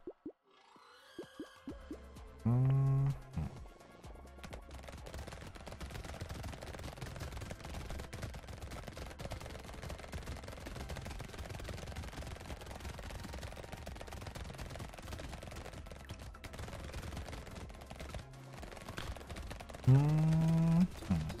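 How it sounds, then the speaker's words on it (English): Rapid, continuous gunfire from six submachine guns in the game Brotato forms a dense, even rattle of tiny popping shots running throughout, with a few brief higher blips and bursts rising above it; no one speaks. "The soothing sound of 6 SMGs."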